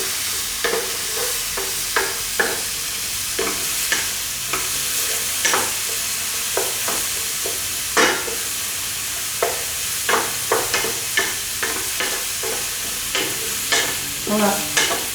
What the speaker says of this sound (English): first she's gonna stir fry the main ingredients here. The spicy ingredients.